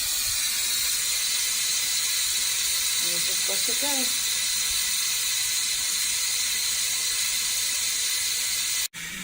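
Steam vents from an electric pressure cooker's release valve after cooking keto curry chicken and broccoli. A loud, steady hiss runs through the whole clip while someone speaks briefly over it.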